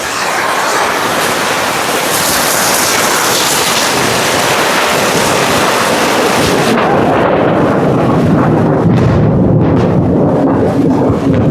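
Heavy storm with thunder and strong wind, a constant loud roar of rain and gusts filling the scene throughout, with rumbling and crackling surges and no voices.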